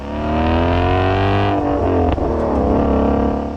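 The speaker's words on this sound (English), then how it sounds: "this price is justified with this exhaust note" A Ford GT350R's naturally aspirated 5.2-liter flat-plane-crank V8 revs hard and close, its loud, raspy exhaust note climbing steadily in pitch, dipping briefly, then surging again without any voices.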